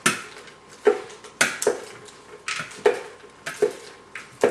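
Spinach leaves drizzled with olive oil are tossed and mixed in a bowl, producing soft rhythmic rustling with regular light knocks of utensils against the dish, close and fairly quiet.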